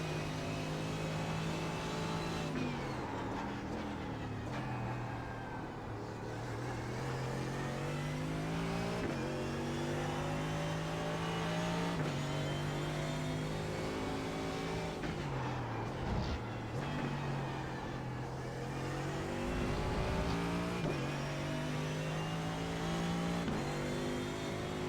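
A Mercedes AMG GT3 race car engine in iRacing revs up and down steadily through gear changes, droning loud and close throughout without talk.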